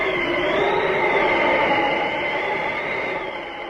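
A steady, roaring blizzard wind howls without pause, a broad rushing hiss of a snowstorm that swells slightly and then eases toward the end.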